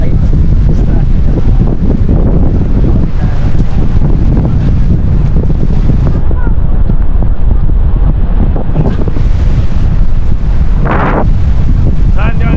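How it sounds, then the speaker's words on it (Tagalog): Strong wind roars and buffets the microphone nonstop, a dense, loud rush that covers everything, with faint hints of water or voices underneath. "kaya lang malakas ang hangin"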